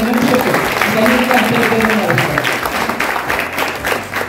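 An audience at a school gathering claps in steady, dense applause for a few seconds, fairly close and loud, with a voice speaking over it.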